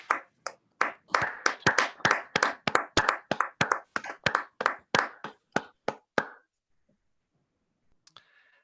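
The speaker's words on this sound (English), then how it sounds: "May I suggest that we all clap?" A small group at an environmental memorandum signing claps in unison, about twenty crisp, evenly spaced claps that hold a steady beat for six seconds, then stop abruptly, leaving near silence and one faint tap near the end.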